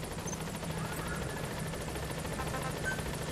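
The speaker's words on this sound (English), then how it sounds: "Wait, I need the chopper to come back." A helicopter in the Metal Gear Solid 5: The Phantom Pain video game gives off a steady, close rotor thrum with a constant engine whine, loud and unbroken throughout.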